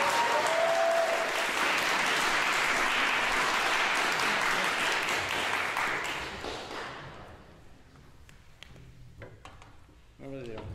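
An audience at a recital claps steadily and loudly for several seconds, then the applause thins out and fades, and a few stray claps and a voice follow at the end.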